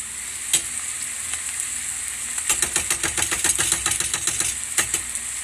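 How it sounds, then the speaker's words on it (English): Bolognese in a hot pan sizzles loudly as plain tomato sauce is poured in, with a steady frying hiss broken by a burst of rapid crackles and spatters midway. "Now with the bolognese, we are going to drop it on tomato sauce"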